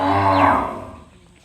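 A single farm bovine, among young bull and heifer calves, lets out one loud, close moo that slides downward and fades away within about a second and a half, with no talking.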